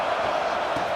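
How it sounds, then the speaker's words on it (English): Steady roar of a stadium crowd in a college football video game, a dense, continuous wall of cheering noise with no distinct speech, sustained throughout at moderate volume. "Listen to the crowd energy here in the early going."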